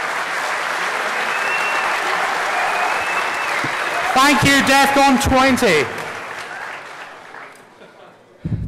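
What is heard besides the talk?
audience applause at DEFCON 20 closing ceremony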